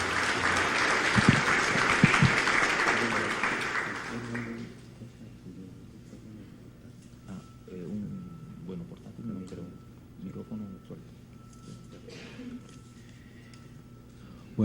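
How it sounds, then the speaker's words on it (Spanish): Audience applause welcoming a speaker to the podium at a conference on state liability for the administration of justice, loud and sustained for about four seconds, then fading into quiet room murmur and soft speech. "recibamos con un caluroso aplauso"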